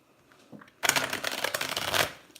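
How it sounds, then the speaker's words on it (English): A deck of tarot cards is riffled and shuffled briskly, close and loud, in a continuous run of papery flutters after a brief quiet start. "I want to give it a really good shuffle"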